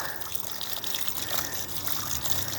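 Water splashes and trickles steadily onto levelled farm soil, a soft continuous wash of spattering sound, fairly faint and with no speech.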